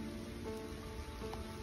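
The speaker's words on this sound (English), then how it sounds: "Raining harder." Steady rain hisses in a dense, even wash on a forest trail, fairly quiet, with a soft low rumble beneath it.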